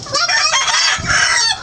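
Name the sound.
chickens clucking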